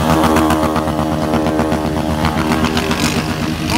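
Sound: motorcycle revving with Fortuna exhaust

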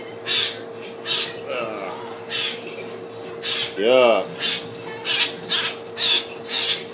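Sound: pet bird calling

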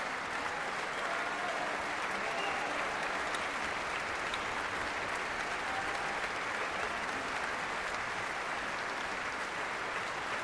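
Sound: concert audience applauding at the Concertgebouw

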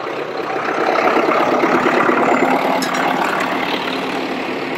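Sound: tractor engine

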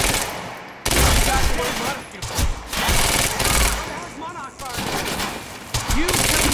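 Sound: gunfire in a video game

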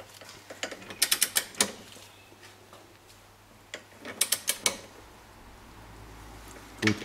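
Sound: ratchet tightening BMW E34 front axle strut bolt

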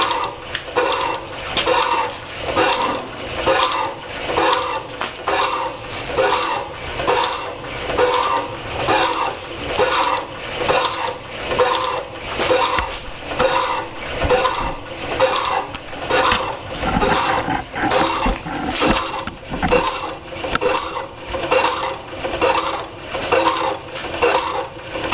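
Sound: Delta / AMMCO 7.5 inch metal shaper running

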